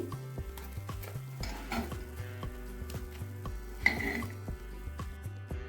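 Chitoi pitha rice cakes cooking in a pan over a low flame, a soft sizzle under repeated rhythmic low scraping and knocking of a utensil against the pan, with a brief metallic clink.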